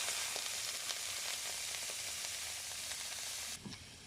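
Vegetables frying in a pan with whole cumin seeds, a steady, dense, close sizzle throughout with faint stirring clicks, easing slightly near the end; no talking.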